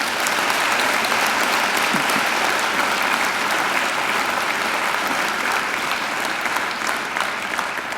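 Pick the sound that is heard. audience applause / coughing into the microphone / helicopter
audience applause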